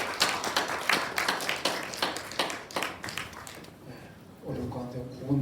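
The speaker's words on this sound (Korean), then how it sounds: "하나님께 영광의 박수 드리겠습니다" Congregation clapping during a Sunday church service, a run of brisk, fairly loud claps with uneven rhythm that thins out, followed by a voice speaking at the end.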